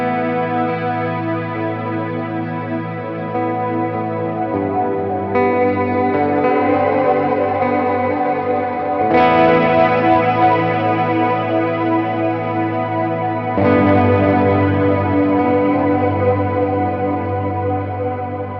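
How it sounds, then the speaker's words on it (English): Sustained electric guitar chords through a Catalinbread Softfocus reverb pedal, drenched in heavy reverb, the picking smeared into a continuous shimmering wash that swells with each new chord. "you can still hear your first picking, your original guitar sound, but the reverb's going to be way over top of it"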